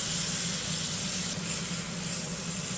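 A chuck roast sears in a hot pan, giving a steady, even sizzle and hiss that runs the whole time at moderate level, with no voices.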